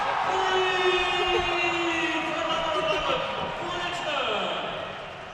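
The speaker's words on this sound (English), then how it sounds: "And the crowd goes wild for Steve." A college basketball crowd roars and cheers after a play, a loud sustained wash of voices that swells and then slowly fades, with whistles and whoops mixed in.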